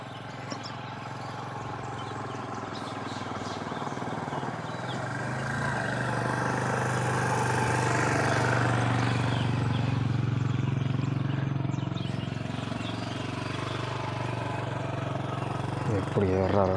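A motorbike engine labors up a steep hill road, its low drone swelling and holding steady throughout, with faint voices and outdoor background noise.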